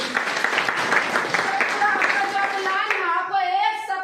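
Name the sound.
audience applause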